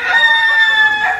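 A hen gives a single drawn-out call lasting about a second, loud and close, with no other sounds around it.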